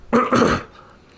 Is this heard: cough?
yes